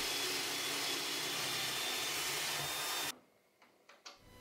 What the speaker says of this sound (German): Um die Bohrungen vertikal exakt einzubringen, nutze ich meine Ständerbohrmaschine